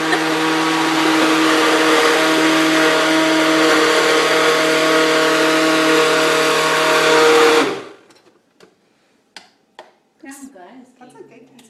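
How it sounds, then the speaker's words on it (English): An old blender, made before 1990, whirs loudly and steadily while mixing an avocado hair conditioner, then cuts off abruptly, leaving a few scattered clicks and knocks. "Make sure your blender was made before the year is 1990."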